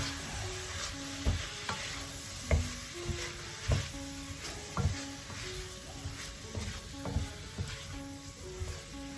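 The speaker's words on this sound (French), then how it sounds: "On rajoute nos légumes, notre mirepoix à la viande. On mélange de nouveau." Mirepoix vegetables and beef sizzle steadily in a hot pan while a utensil stirs them, with regular scraping knocks about once a second over the constant frying hiss.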